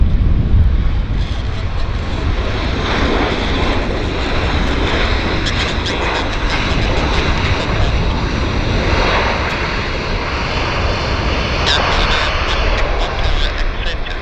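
An airliner arriving from Halifax rolls in at Vancouver airport with a loud, steady engine roar throughout, full and close, while someone talks over it.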